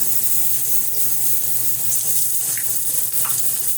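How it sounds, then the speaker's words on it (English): Shrimp tossed into a hot pan sizzle with a steady, close frying hiss that holds evenly throughout, as part of a quick pasta dinner with cheese. "let's get the shrimps popping up. Throw these little suckers in."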